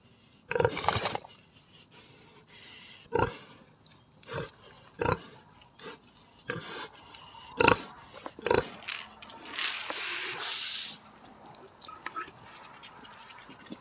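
A pig on an Appalachian farm grunts in short, irregular bursts, close and moderately loud, with a person talking at times between the grunts.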